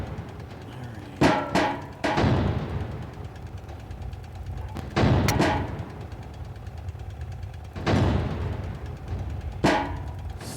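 Gunfire strikes a tank in the video game Sprocket: sharp, loud impacts land in irregular bursts, two close together early and single heavy hits spaced further apart, over a steady low engine rumble.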